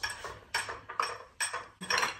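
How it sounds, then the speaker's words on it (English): Flour and baking powder being stirred together in a bowl, with five separate bursts of scraping and clinking against the bowl, fairly close and steady, with no talking. "And then I go ahead and mix them together."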